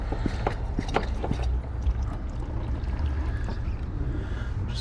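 A hand vacuum pump from a brake bleeder kit being worked on a car's brake system, giving a run of rhythmic squeezing clicks and strokes close up over a low background rumble.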